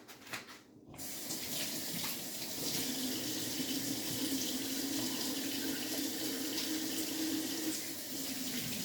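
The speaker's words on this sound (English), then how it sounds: "I'm gonna wash my hands." Kitchen tap running steadily as hands are washed beneath it, a continuous close splashing stream that starts abruptly after a brief quiet moment and holds for the rest of the clip.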